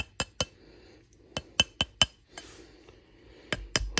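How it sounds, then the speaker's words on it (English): A small hammer taps an oval sterling silver bezel around a pink opal cabochon ring, giving sharp, close metallic clinks in uneven bursts of single and paired strikes with short pauses between. "I can take my oval bezel and I can take my little hammer"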